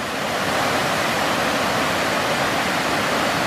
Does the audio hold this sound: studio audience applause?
no